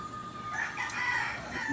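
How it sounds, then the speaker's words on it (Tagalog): A rooster crows once, fairly clear over a steady background hum, with a rising and falling drawn-out call. "Ay, may mga alaga siya ditong ibon."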